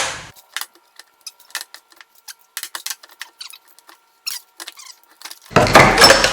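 A pry bar works against an Audi TT differential, producing scattered sharp metallic squeaks, creaks and ticks in irregular bursts, ending in a louder scraping clunk.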